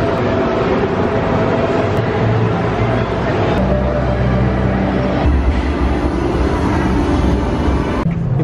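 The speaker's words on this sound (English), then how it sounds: "So we're gonna take the train over, the Hogwarts over to Hogsmeade," Hogwarts Express train ride to Hogsmeade at Universal: a steady loud rumble of a rail carriage in motion with continuous low hum and mechanical rattle throughout, filling the space closely.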